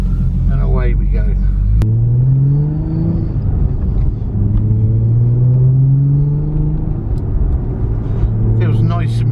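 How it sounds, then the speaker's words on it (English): A Nissan 350Z fitted with a short shifter pulls away in first gear, its engine note rising in a smooth climb, easing off, then climbing again, with a voice briefly at the start and end. "So first selected and away we go."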